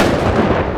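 A dynamite explosion in a Western audio drama lands as a short, loud, close boom, a dense low rumble that fills the moment and then starts to fade.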